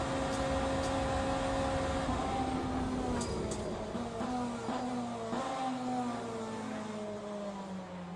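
A BMW M Hybrid V8 race car engine in Le Mans Ultimate drones with a high whining tone that climbs and drops through gear changes, steady and loud throughout, with no voices.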